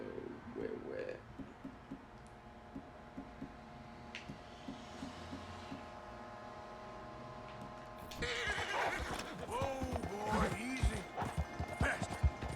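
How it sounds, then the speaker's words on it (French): Horse in the Red Dead Redemption 2 video game whinnying and snorting in short agitated bursts, loudest near the end, over a steady game ambience with occasional hoof clops. "il a un peu peur, il est un peu furieux ce cheval"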